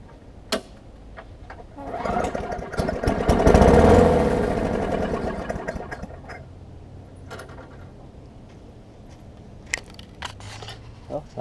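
A Briggs & Stratton flathead lawn mower engine, running without a gas tank, sputters to life on a shot of starter fluid. It builds into a loud, rough burst of running for a couple of seconds, then dies back to quiet clicks and faint knocks.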